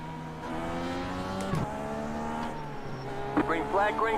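Race cars accelerate at a green-flag restart in iRacing, DW12 IndyCars at Auto Club, with steady rising engine drones under a brief whistle, then sharp shifts and overlapping engine notes near the end.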